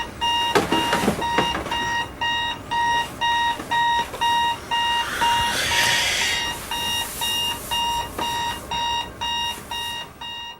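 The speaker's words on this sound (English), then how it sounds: "Pete, your alarm clock is ringing." An alarm clock rings in a steady repeating pattern of short electronic beeps, loud and close, with a brief burst of rustling noise partway through.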